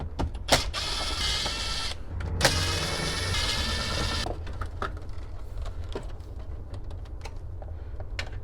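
Bolts around the radio in a Ford F250 being loosened with a power tool, giving a couple of sharp bursts of whirring and ratcheting, one long run of buzzing, then scattered clicks and handling clatter close by. No one speaks.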